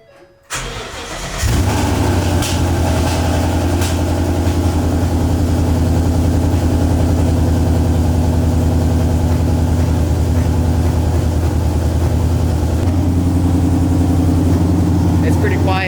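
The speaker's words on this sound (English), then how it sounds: "gotta do a quick little cold start" A Ford Mustang drift car engine cranks and catches on a cold start with its exhaust valves closed, then settles into a steady, loud, rumbling idle close by that continues without a break.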